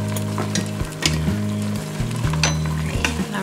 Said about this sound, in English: now we're gonna stir this up